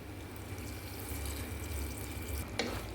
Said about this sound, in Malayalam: നന്നായിട്ട് തിളയ്ക്കുന്നുണ്ട്